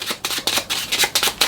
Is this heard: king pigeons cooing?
no